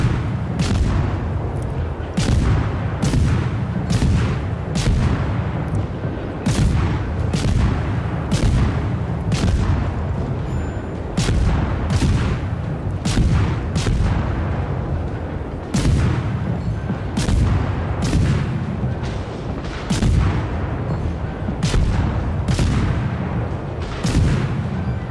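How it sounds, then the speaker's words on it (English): Naval guns in World of Warships fire German ordnance in a rapid, repeated barrage of sharp booms, roughly two per second, loud and continuous across the whole span with no talk. "I'm peppering them with some old German ordnance."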